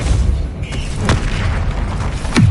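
Spell blasts from the Hogwarts Legacy video game on PS5, heard as loud, punchy booms with short bursts, one midway and a heavier one at the end, over a rumbling background.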